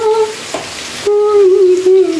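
Potato pieces seasoned with salt and turmeric fry in a pan with a steady sizzle, while a high, clear tone sounds on and off above the crackle.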